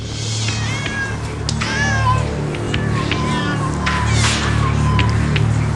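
Several house cats meow repeatedly in an indoor home crowded with many cats, their rising and falling calls overlapping over a steady low hum, with some faint background voices.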